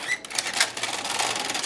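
A sewing machine stitches a child's button bag in a fast, steady run of close mechanical clatter, with a brief pause near the start before the stitching continues.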